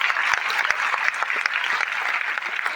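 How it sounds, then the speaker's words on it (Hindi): Applause from an audience at a foundation award ceremony, steady dense clapping throughout with a few sharper individual claps standing out, no talking over it. "तालियां इनके लिए हो जाएगी।"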